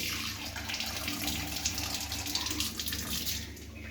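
Steady running water pours from a tap, close by and continuous, as rice is rinsed in a sink, with no voices.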